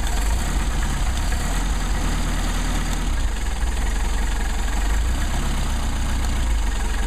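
A Mercedes 190SL engine idles steadily at close range while its carburetors warm up, a continuous low rumble with a faint irregular knock running throughout and no talking.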